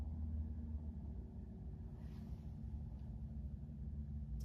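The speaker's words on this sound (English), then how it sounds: "As an airplane flies overhead" An airplane passes overhead, heard as a faint, steady low rumble that lingers in the distance for the whole stretch, with no talking.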